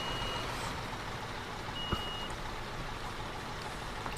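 A truck reverses in Construction Simulator 15, a loud engine drone running under a high, steady backup beep that sounds in a long tone and then again after a pause.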